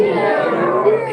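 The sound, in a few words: person imitating an angry cat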